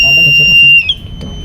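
A steady, piercing electronic buzzer tone sounds continuously, loud and close, with people talking underneath it; a landslide-detection system's alarm.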